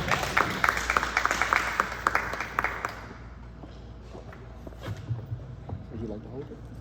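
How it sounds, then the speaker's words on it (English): An audience at a financial literacy event claps in a brisk round of applause for a speaker approaching the podium, loud at first then thinning out, followed by scattered room noise and faint voices. "Give a round of applause."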